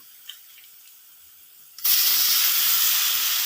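Beef tripe hitting a hot pan in Kerala-style boti fry, a sudden loud, steady sizzle that starts after quiet kitchen ambience and holds strong to the end.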